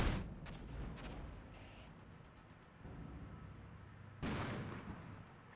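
Distant artillery fire in the tank warfare game Armored Brigade, with two sharp muffled blasts near the start and another heavy boom later, set over a steady low rumble of battle noise.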